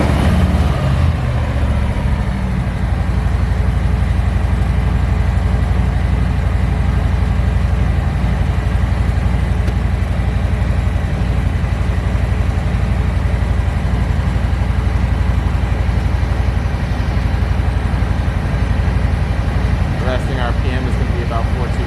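A Harley-Davidson Softail Street Bob 114 motorcycle engine idles steadily at about 1400 RPM with a low, even rumble that holds constant throughout.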